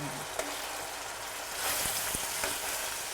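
Fish fries in a pan as it is turned carefully, giving a steady close hiss of hot oil with a couple of soft knocks from the utensil.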